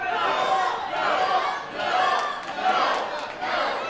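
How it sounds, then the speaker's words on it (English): A crowd at a no-rope barbed wire wrestling show chants a loud drawn-out no at a wrestler, about four rhythmic swelling shouts in steady succession, massed and roomy with scattered claps. "The crowd kind of telling Spectre no."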